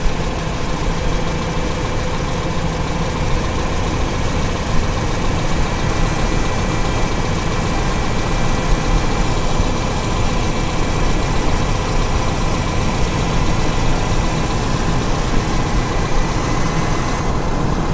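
A Toyota Kijang carbureted car engine idles steadily up close, at raised idle, a loud, even low rumble that holds constant throughout.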